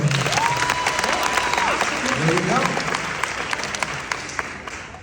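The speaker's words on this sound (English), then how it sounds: "Just clap if you've never seen me or heard of my story." Audience clapping at an Elvis Week event where an actress shares stories, a steady wash of hands throughout, with a voice speaking over it.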